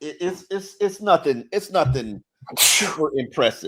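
A single sharp sneeze bursts out in the middle of a sports podcast conversation, loud and close, with people talking right before and after it.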